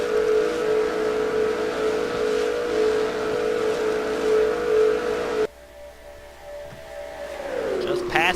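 Stock cars, including a 2007 Ford Fusion, race at over 200 mph in an NNSCRA Castrol GTX Cup Series race video game. A steady high engine whine drones, cuts abruptly to quieter sound, then swells again near the end.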